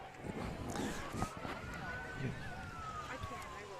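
Emergency vehicle sirens at the Toronto Christmas Parade wail faintly in the distance and rise slowly as they approach, under crowd noise and nearby voices.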